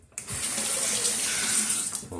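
A bathroom tap runs cold water for shaving, a steady close hiss and splash into the sink that starts abruptly and continues evenly throughout.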